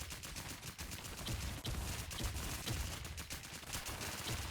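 Rapid video game gunfire crackles almost nonstop in dense bursts, close and loud, with no talk over it.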